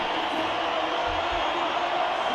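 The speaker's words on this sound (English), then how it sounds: "Oh, the crowd's really into it. Let's just listen to that crowd." A stadium crowd at a South Africa versus New Zealand Rugby Championship match keeps up a steady, continuous roar of cheering, heard as a dense wash of noise from a distance.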